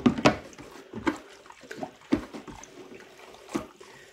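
Dye water stirred in a container with long tongs gives soft intermittent splashes and sloshes, each swirl a brief wet burst separated by quiet moments, close and fairly faint.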